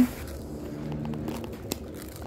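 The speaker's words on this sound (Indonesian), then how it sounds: "ini rotinya udah keras ya teman-teman dan juga renyah banget" Crunchy dried white bread, crisped without an oven and sweet with margarine, is bitten close up: faint crackling chewing with one sharp crunch, and no talking.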